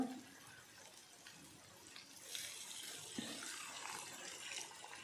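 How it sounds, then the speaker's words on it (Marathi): A little water is poured into gravy in a pan with a soft splashing rush, faint and close, its gurgle rising partway through and continuing steadily. "आता मी पाणी टाकते थोडंसं"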